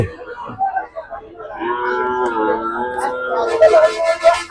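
Cattle at a busy cow market, with lowing moos rising over the crowd noise and voices of people talking nearby; the calls are moderately loud and carry through most of the stretch.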